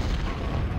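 Continuous rumbling low booms of artillery fire in the Civil War strategy game Ultimate General, a dense steady barrage at the Battle of Fredericksburg, fairly loud with no clear gaps.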